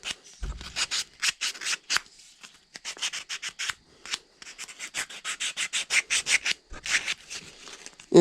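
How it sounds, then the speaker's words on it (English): Rhythmic scratchy strokes of hand sanding on a wooden part of a powder horn, quick back-and-forth rubs in bursts with short pauses, close and fairly loud, no talking. "And then you want to sand it a bit."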